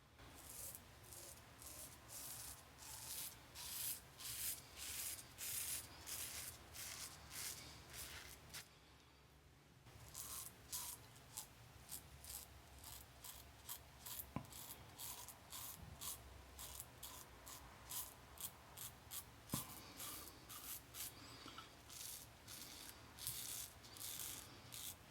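A Rockwell 6S or Rex Envoy safety razor scrapes through thick beard growth in quick, rhythmic strokes, each a close, gritty rasp. The strokes repeat steadily for about twenty-five seconds with one short pause partway through.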